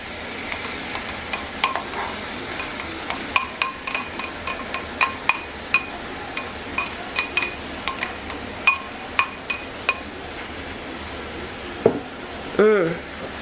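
Green pepper and onion fry quietly in a pan for lasagna, a low sizzle under a rapid series of sharp utensil clinks and taps against the pan, with a brief louder clatter near the end.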